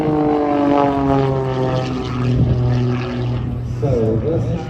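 Propeller aerobatic aircraft with normally aspirated engines performing at an air show, a loud steady drone with shifting harmonic pitch that holds throughout, with a brief swoop near the end and a voice heard faintly underneath.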